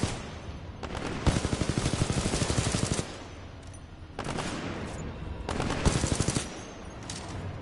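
Automatic gunfire in the video game Titanfall 2 comes in two long, rapid bursts of loud, close shots, each lasting a couple of seconds, separated by a brief lull with faint background game noise.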